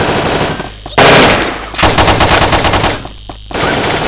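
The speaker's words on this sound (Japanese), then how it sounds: "音が本当に連射力が速くなった" Rapid bursts of automatic gunfire in the online shooter game Paperman, loud and close, in stuttering volleys separated by brief gaps.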